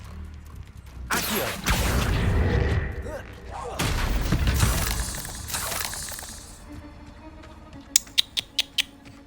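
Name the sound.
Confringo blasting spell explosions in the Hogwarts Legacy video game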